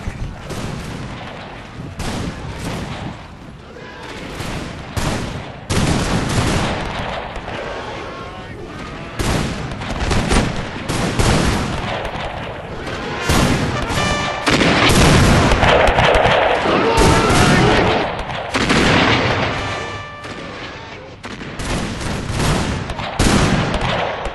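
Massed rifle volleys from defenders firing on advancing Zulus in a Rorke's Drift Anglo-Zulu War battle game, dense overlapping cracks and booms rolling almost without pause, loud and close throughout.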